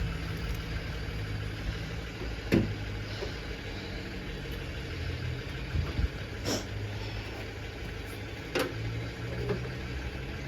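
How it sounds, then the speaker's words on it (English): Tow truck engine idling at a steady low rumble beside a stalled semi truck, continuous and moderately close, with a few sharp clanks and knocks breaking through. "we're waiting for the tow truck to come jump this truck off for us"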